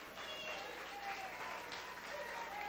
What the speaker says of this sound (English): Big warm round of applause for Miss Roxy Koner